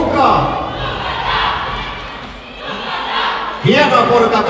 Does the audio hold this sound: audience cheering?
yes